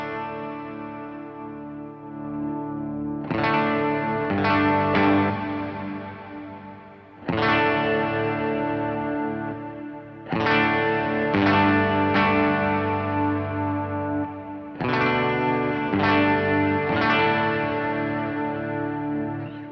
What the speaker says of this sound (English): So that's a pretty good clean tone, but it just kind of feels flat.